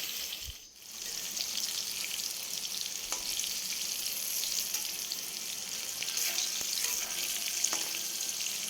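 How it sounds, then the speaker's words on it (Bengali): Slices of kakrol (spiny gourd) fry in a pan with a steady hissing sizzle, fairly quiet and even, with a few faint clicks of a utensil. "আমি কাঁকরোলগুলো ভাজতে শুরু করে দিয়েছি"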